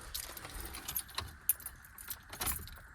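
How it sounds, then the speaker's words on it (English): A ring of keys jangling as they are picked up inside a Ford F-250 or F-350 truck, a few soft metallic jingles and clinks close by, quiet and without talking. "So let's grab the keys, and we'll turn the power on."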